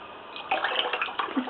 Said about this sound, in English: I put a little bit of cold water in the bottom